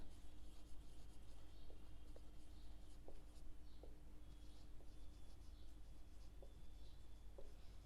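Pen scratching across paper while an accounts entry is written by hand, a steady soft rub with faint short strokes over a quiet background hiss and a low hum, no talking.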